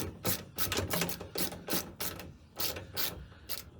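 Ratcheting clicks from a VW Beetle handbrake being tightened on the passenger side, a close, steady run of sharp metallic pawl clicks in quick bursts.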